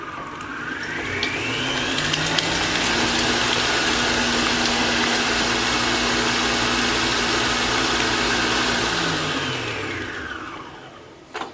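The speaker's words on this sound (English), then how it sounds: "So back on the stand mixer, same attachment, pop that on, and then we're going to mix this at quite a high speed now" A Kenwood stand mixer beats butter at high speed, a steady motor whir that ramps up, holds loud and constant for several seconds, then winds down at the end.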